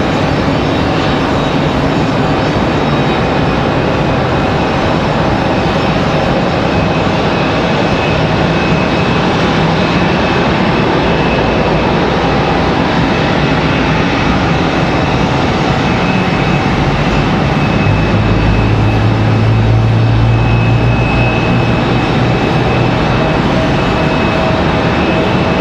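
Aeromexico Connect airliner arriving at Raleigh-Durham airport, a loud continuous jet engine roar with heavy rumble that swells slightly as the plane draws nearer, heard outdoors over wind noise.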